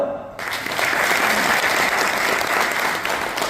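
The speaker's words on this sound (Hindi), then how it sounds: "ताली बजाओ।" Audience at a farmers' training session in Jaipur breaks into loud, steady clapping that starts abruptly and continues for several seconds, close and sustained.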